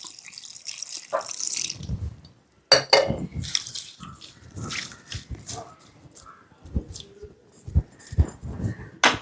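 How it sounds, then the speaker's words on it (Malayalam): Water splashes into a cooking pot in short bursts, mixed with clinks and knocks of kitchen utensils nearby. "പിന്നെ അത് വേവാൻ ആവശ്യമായ വെള്ളം ഒഴിച്ചു കൊടുക്കാം"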